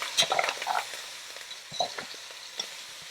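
Corned pork fries in a pot while being stirred for a Jamaican cook-up, giving a soft sizzle under scraping and clinking of the spoon at close range.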